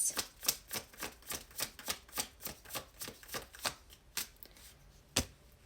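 Tarot cards shuffled close by in a quick, even run of about a dozen crisp slaps and riffles, slowing toward the end and finishing with one louder final snap, with no talking.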